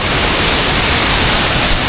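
A jungle waterfall roars as a dense, even wash of rushing water, loud and close, unbroken with no voices.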